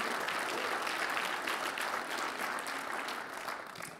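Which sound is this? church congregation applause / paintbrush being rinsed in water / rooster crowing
church congregation applause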